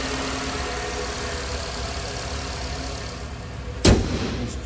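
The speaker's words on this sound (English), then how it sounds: "nice healthy sounding four-cylinder engine, nice and clean" A 2019 Nissan Sentra SV's four-cylinder engine idles steadily with a low, even hum, close and continuous, then a sharp single knock or clunk cuts in near the end.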